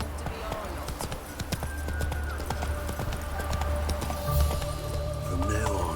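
Roach the horse gallops in The Witcher 3, with fast, steady clip-clop hoofbeats close by and a snort or whinny near the end, over faint game ambience.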